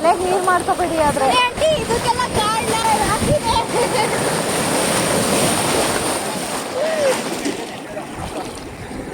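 Forceful water rushes where people are playing in it, a continuous broad roar and splash running throughout beneath loud voices and excited shouting.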